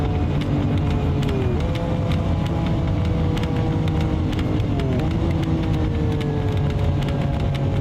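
Lamborghini engine in Assetto Corsa roaring loud and steady at high revs throughout, with pitch sweeping up and dropping at gear shifts around two and five seconds, near and continuous without talk.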